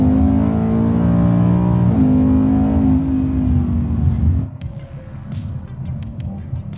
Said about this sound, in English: So the exhaust is now in track mode.